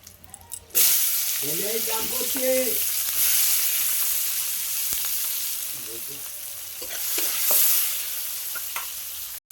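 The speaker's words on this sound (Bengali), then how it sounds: "দেখো পেঁয়াজটা ভাজা হয়ে গেছে" Chopped onions frying in oil in a pan, a continuous close sizzle with occasional scraping stirs; a voice speaks briefly over it in a couple of spots.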